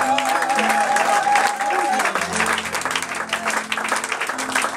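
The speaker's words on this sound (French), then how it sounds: "just clap your hands for Jesus in this place" Church congregation clapping hands for Jesus during a worship service, a dense, sustained wash of applause with cheering voices mixed in, steady throughout.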